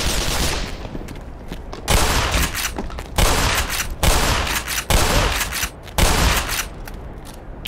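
Rapid automatic weapon fire in the shooter game Black Mesa: Xen, loud sustained bursts broken by brief pauses, close and dense throughout.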